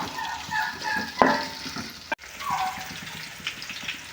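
Onions sautéing in a pan with whole spices such as cinnamon and bay leaves for crab biryani give a soft, steady sizzle with stirring scrapes and one sharp clack midway.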